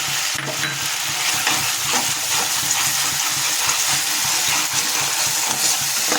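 Tomatoes with green chillies and whole dried chillies frying in a pan over a gas flame, a steady close-up sizzle with wet bubbling and occasional stirring scrapes, continuous and fairly loud throughout.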